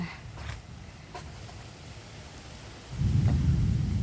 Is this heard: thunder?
yes